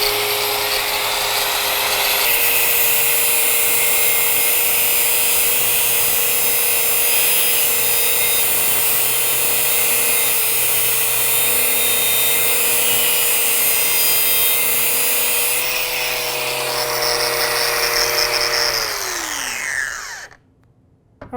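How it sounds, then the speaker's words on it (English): An angle grinder runs at full speed for about twenty seconds, a loud steady high whine with a slight pitch shift partway through, then winds down and stops at the end. "fire up the grinder"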